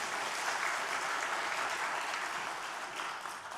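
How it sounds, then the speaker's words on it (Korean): A church congregation applauding during a Sunday worship service, even continuous clapping heard from a little distance, moderately quiet and steady before fading slightly. "우리 영광교회 박수가 많이 는 것 같아"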